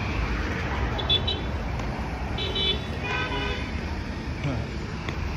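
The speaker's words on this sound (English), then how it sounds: "Everybody honking in the cars." Car horns toot repeatedly in steady road traffic, several short honks at mid distance over a constant engine and street rumble, with people talking nearby.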